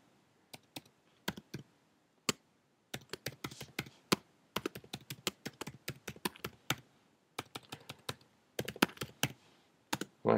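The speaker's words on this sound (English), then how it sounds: "having a hard time typing here" Typing on a computer keyboard at a desk, with irregular bursts of sharp, close key clicks separated by short pauses, fairly quiet and with no voices.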